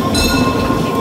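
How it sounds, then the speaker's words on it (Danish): A tram runs past at a city junction, a steady loud rumble of wheels on rail with a high whining tone, heard up close throughout with no talk. "Lige der kører sporvognen også."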